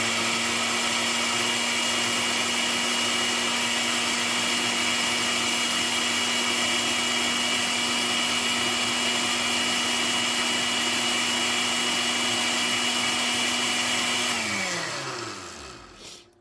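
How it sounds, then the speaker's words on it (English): An electric grinder whirs steadily while blending a ghost pepper seasoning mix, a loud, even motor drone that holds, then winds down and stops at the end. "Let's give it a little grind."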